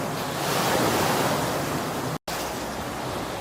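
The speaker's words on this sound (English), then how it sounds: "when them big waves come in, you can hear all these bricks here, all tumbling round underwater" Boat-wake waves wash over the Thames foreshore in a steady, close, roaring surge of water with a wind-like hiss, broken by one brief dropout.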